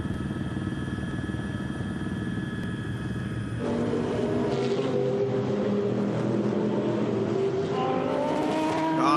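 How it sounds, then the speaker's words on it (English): Race cars at the Nurburgring 24 Hours plunging downhill past a huge crowd, engines roaring in a dense continuous blare, one loud car passing close and shifting pitch midway, with further cars following, no talk. "Cars absolutely everywhere now, plunging downhill."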